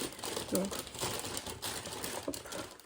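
A full plastic trash bag crinkles and rustles as it is handled, brief crumpling bursts up close under a woman's French speech.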